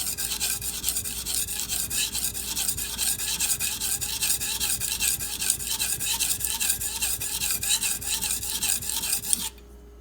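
A 210mm Karaku AS gyuto blade grinds on a sharpening stone in fast, even back-and-forth rasping strokes, close and continuous, ending abruptly near the close.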